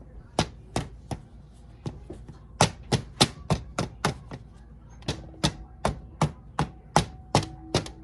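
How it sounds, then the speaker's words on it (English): A fork jabs flattened bannock dough on a hard surface, many sharp quick taps in an uneven rhythm, close and clear with no voice over them. "Now that it's all flattened, we're gonna poke it with a fork"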